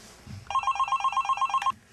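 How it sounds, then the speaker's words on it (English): A telephone rings with a rapid, trilling electronic bell pattern, one sustained burst of evenly pulsed tones, clear and close, ending abruptly. "phone's ringing."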